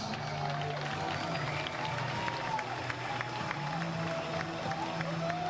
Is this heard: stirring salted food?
no